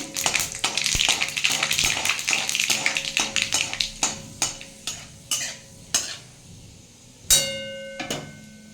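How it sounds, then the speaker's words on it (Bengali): Dried red chillies and mustard seeds crackle and pop sharply in hot oil as a Bengali tempering for tomato masoor dal, dense rapid snaps at first thinning into scattered, louder pops near the end; no voices. "আমার তেলটা গরম হয়ে গেছে আমি এতে একটু শুকনো লঙ্কা একটু সর্ষে ফোড়ন দিয়ে দিলাম"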